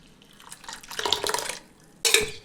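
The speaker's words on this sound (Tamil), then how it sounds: "பருப்பு வேக வச்ச தண்ணியை இப்போ இதில் சேர்த்துக்கலாம்." Water from boiled lentils is poured into a pot of green rasam in two short bursts, a splashing trickle followed by a louder gush, with a light clink of metal.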